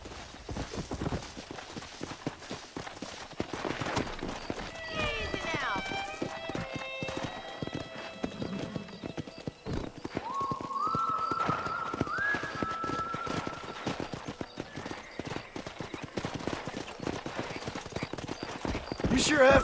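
Wild horses gallop in Red Dead Redemption, a steady clatter of hooves with occasional whinnies and game music tones over it, moderately loud throughout.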